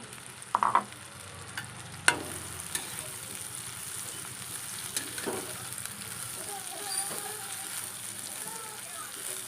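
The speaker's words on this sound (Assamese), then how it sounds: "পিয়াজখিনি পকি গল এতিয়া বাছি ৰখা ইয়া শাকখিনি দি দিছো ইয়াত" Fiddlehead fern greens are stirred into a pan of cooked onions and turmeric-laced oil, giving a steady close hiss of frying with a few sharp utensil clatters near the start.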